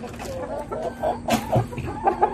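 Chickens clucking softly and repeatedly while eating, close by, with soft rustling and pecking sounds between the clucks, in the rainy season.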